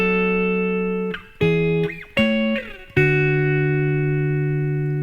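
Electric guitar plays the opening measure and the first chord of a song, sustained, ringing chords that change a few times, with brief scratchy string noise between them and no voice.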